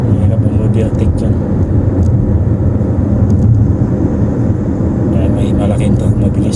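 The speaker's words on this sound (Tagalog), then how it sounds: "May malaking truck mabilis." A large truck speeds past on King Salman Road, its loud rushing roar and road noise dominating the whole stretch, heard from inside a moving vehicle with a voice over it.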